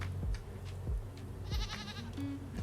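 Several llamas bleating in the survival video game Raft, short nasal cries repeating every second or so, one longer wavering call in the middle, fairly close.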